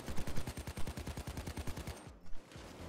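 Rapid bursts of sniper gunfire in the heist game Payday 2, a fast steady volley of loud close shots for about two seconds that then breaks off into quieter scattered sounds.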